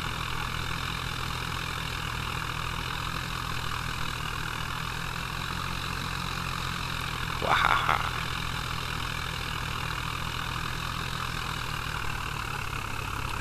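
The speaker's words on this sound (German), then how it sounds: "Sitze auf meinem Traktor und bretter durch die Felder." A tractor engine in the video game Landwirtschaftsimulator 2011 drones steadily at idle throughout, with a brief louder rumble and rattle partway through, no voices.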